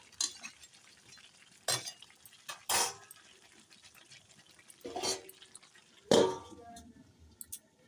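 Chicken and potato curry being stirred in a pot with a utensil: a few separate scraping, clinking strokes with quiet gaps between them, close by, with no talking.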